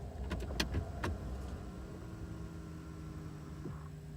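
A car's climate control shifting its air-direction diverter between vent, feet and defrost settings: a few short mechanical clicks and whirs early on, then a steady fan hiss inside the cabin with a rainy drive outside.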